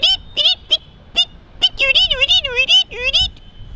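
A man whistles an imitation of a bulbul's call: a few short, separate chirps, then a run of warbling, bending notes. It is loud, close and on its own.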